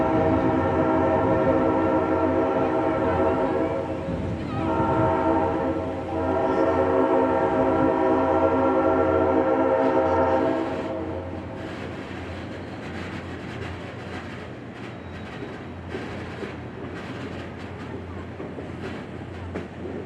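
A Royal Gorge Railroad train rumbles past with a sustained, chord-like horn blaring for about ten seconds, then the heavy rolling clatter of rail cars continues.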